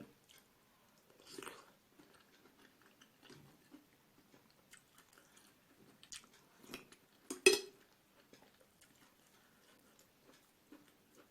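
Someone chews crunchy mushrooms from a mushroom and carrot curry with Turkish sweet pepper, giving soft, close, irregular bites and crunches, with one sharp click partway through and no talking.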